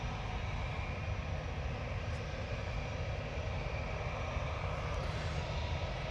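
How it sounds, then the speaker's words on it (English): A Lufthansa Airbus A321 passes at Manchester Airport, its engines giving a steady, moderately distant rumble and roar that holds evenly throughout with no voices. "An Airbus A321, it's a Lufthansa going back to Frankfurt."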